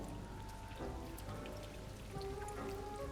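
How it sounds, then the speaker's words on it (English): Rain from a small rain cloud in Hogwarts Legacy patters steadily onto a surface, with close scattered droplets and a soft, even hiss throughout. "Oh no, it's a little rain cloud above it."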